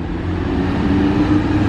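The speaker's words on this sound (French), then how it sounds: "Oh là-bas il y a une belle Huracan bleue qui descend." A blue Lamborghini Huracan drives down the road close by, and its engine gives a steady, loud, low rumble throughout.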